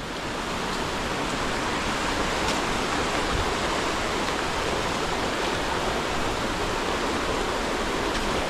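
A swollen creek after rain rushes loudly and steadily, a dense, unbroken roar of flowing water close by with no voices.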